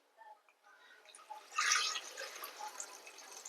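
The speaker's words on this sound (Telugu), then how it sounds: "నిండిపోయేదాకా వాటర్ పోసుకొని" Water poured into a pressure cooker over mutton paya pieces seasoned with turmeric, chilli powder and salt, a light splashing trickle that swells into a louder gush midway, then settles into steady filling.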